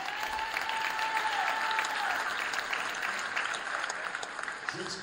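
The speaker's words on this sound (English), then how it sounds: "Big round of applause for Audrey" A crowd at a school basketball team introduction applauds a seventh-grade girls' player, a steady wash of many hands clapping in a large room, with a faint tone and some voices underneath.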